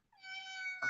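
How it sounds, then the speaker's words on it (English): A single drawn-out cat meow, close and clear, rising into a sustained tonal cry before ending abruptly in a brief noisy scuffle. "So here's the cat."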